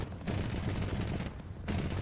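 In the War Thunder video game, a sustained burst of heavy automatic gunfire rattles loudly, breaks off for a moment, then resumes, with a dense low rumble under the shots.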